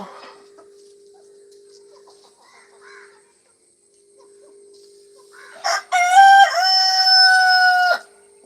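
After a quiet stretch with a low hum and soft background sounds, a rooster lets out one loud, drawn-out crow nearby.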